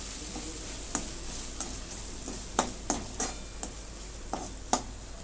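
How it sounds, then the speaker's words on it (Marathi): Turmeric and homemade onion-garlic masala being sautéed in a pan, a soft continuous sizzle broken by repeated sharp scraping knocks of a spatula stirring, close up and without voices. "थोडीशी हळद आणि हा घरचा कांदा लसूण मसाला परतून घेते"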